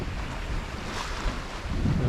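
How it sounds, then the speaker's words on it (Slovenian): Maestral wind blowing at sea aboard a sailboat, a loud continuous rush buffeting the microphone, with water sloshing against the hull beneath it and no talking. "Upava, da bo čim dlje pihal ta veter. V bistvu je tole le Maestral."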